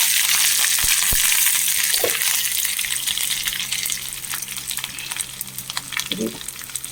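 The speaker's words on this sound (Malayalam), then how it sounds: "ഉലുവ കൊടുത്തു കുറച്ച് കറിവേപ്പിലയും ഉണക്കമുളക് ഇട്ട്" Fenugreek seeds, curry leaves and dried chillies sizzle and crackle steadily in hot oil in a home kitchen, a bright continuous frying hiss with faint stirring clinks and a couple of low knocks.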